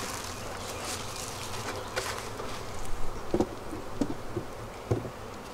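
Agitated honeybees buzzing around an army hive in freezing 25°F weather as it is being closed up, a dense continuous hum with brief louder buzzes and knocks flaring near the middle and end.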